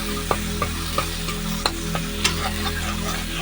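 Masala for a fish-head moong dal fries in a pan with a steady, close sizzle, while a spoon stirs and scrapes through it in regular strokes about every half second. No voices are heard.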